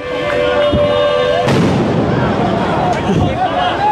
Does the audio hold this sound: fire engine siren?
no